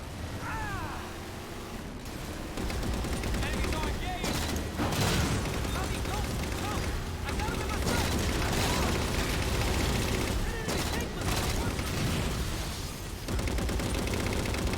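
Sustained, loud machine gun fire from a mounted gun in the Halo 4 video game, dense rattling bursts with brief gaps and explosive impacts layered over game noise.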